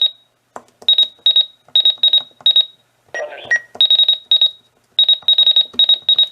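Sharp, high electronic beeps from the buttons of a Radio Shack 12-250 radio sound in quick groups of two to four, with short pauses and a brief lower buzz tone in the middle.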